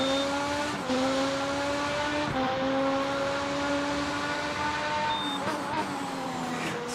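High-revving RaceRoom FR X-22 open-wheel race car engine in a racing game, heard on board, a steady whining drone rising in pitch with brief dips as gears shift.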